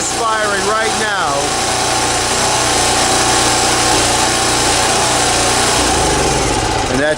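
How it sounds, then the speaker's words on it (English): Champion 3650/4500 portable generator engine running on after the fuel is shut off, a loud constant engine drone with an uneven, faltering tone near the end, with a voice speaking briefly at the start. "So I turned off the gas, run for a minute. I can start to hear it misfiring right now."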